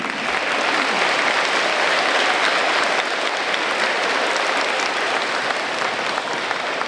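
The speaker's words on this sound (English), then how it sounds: "How about a round of applause for Ms. Corral?" Audience applause at a school Veterans Day celebration following a national anthem performance, a dense, continuous wash of clapping from a large crowd, loud and steady from start to finish.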